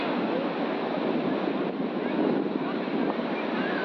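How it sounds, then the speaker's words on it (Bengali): Steady roar of surf washing in at Puri beach, a dense continuous rush mixed with wind noise on the microphone. "সাক্ষী থাকলাম পুরীর সমুদ্রের শক্তি"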